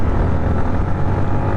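Motorbike engine running steadily on a forest road in Joypur Forest, a loud, close, continuous low drone mixed with wind rush, with no talking.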